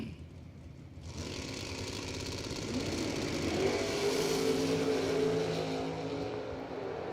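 A drag-strip pair launches together, a 1969 Camaro in the left lane against a Chevelle: near-silence breaks into a loud, sustained engine roar with a rising whine, running unbroken for about six seconds with no talk.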